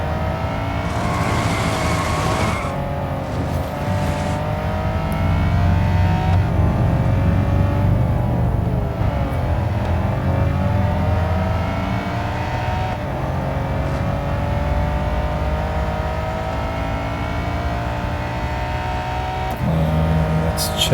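Lamborghini Countach engine in the Real Racing 3 mobile game, a steady loud roar with rising and falling revs through gear changes, sustained throughout with brief faint talk over it.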